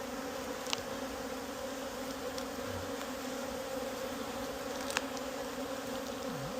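Honey bees hum in a steady, dense drone around a hive near dusk as foragers return, a continuous swarm buzzing close by with a few individual bees passing near.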